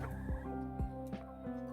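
Chickens outdoors give soft, low clucks and gobbling calls a few times in a row, faint and somewhat distant over a steady background hum.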